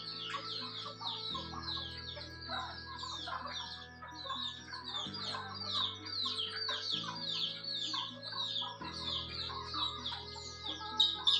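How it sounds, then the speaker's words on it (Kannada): Native country chickens in a farm shed cluck and chirp continuously in busy overlapping calls, with a steady low hum underneath. "ನೋಡ್ತಾ ಇರ್ಬೋದಲ್ಲಿ ಯಾವ ರೀತಿ ತಿಂತಾ ಇದೆ ಅಂತ ಪ್ಯೂರ್ ನಾಟಿ ಕೋಳಿ"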